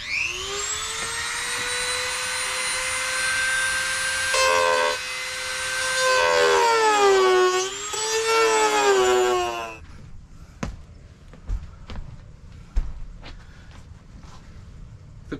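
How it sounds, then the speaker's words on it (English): A small power tool fitted with a little sanding disc whines at a high, steady pitch, rising and falling as it revs and bogs down, then cuts off, leaving scattered clicks and taps. "So that thing's just a little sanding disc"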